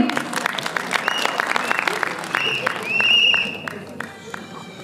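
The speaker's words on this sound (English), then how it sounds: "Round of applause to him." An audience at an evening theatre, art and storytelling event applauds steadily for several seconds, a dense crowd clapping with a brief swell near the end before it fades.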